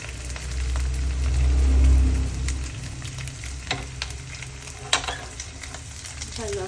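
Food frying loudly in a pan, stirred with a spatula, opening with a strong rushing sizzle that eases into quieter crackling, sharp scraping clatters and a pronounced clink near the middle, no clear talking.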